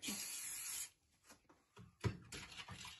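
Cleaner sprayed onto an Andis shaver: a close hissing burst of spray lasting under a second, followed by quiet handling clicks and a second short spray near the end.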